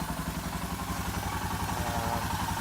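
A motorcycle engine idles steadily close by after roadside repairs, a rapid even throb with light mechanical clatter throughout and no speech.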